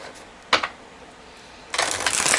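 A thick-cardstock oracle card deck is shuffled close up, with a short riffle near the start and then a longer, louder burst of brisk card flicking at the end.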